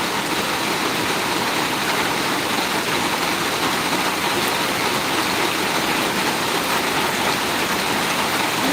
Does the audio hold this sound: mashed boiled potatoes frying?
no